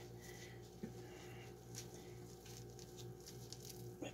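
Heavy rain pattering steadily outside during seedling repotting of peppers and tomatoes, a faint continuous hiss with soft irregular drips, heard alone without talk.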